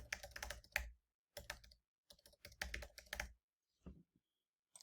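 Typing on a computer keyboard while entering an email address, with bursts of rapid key clicks separated by short pauses and a few softer taps near the end, close and clear with no talking.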